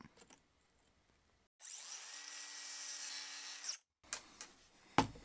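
A power tool cuts through the end of a throttle, brake or clutch control cable in one sustained, loud whine of about two seconds, followed by a few short clattering knocks as the workpiece is handled.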